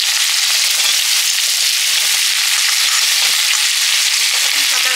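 Vegetables fry in hot oil in a kadai, a loud continuous crackling sizzle with bursts of spattering and occasional stirring, steady and close throughout without speech.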